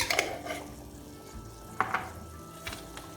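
A chickpea stew stirred in a pot, a soft simmering sizzle with a few sharp clinks of a spoon against the pot, faint and close.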